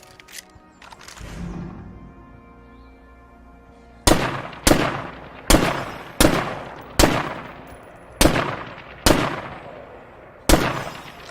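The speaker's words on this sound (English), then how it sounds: "Nice AR platform, single fire, decent zoom, 30 round mag, really nice gun." Single-fire shots from a GSGW assault rifle in State of Decay 2, eight loud, sharp cracks at uneven intervals, each trailing off into a short echo, with a quieter game rumble before the first shot.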